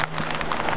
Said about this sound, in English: And that rain's making it hard to see anything.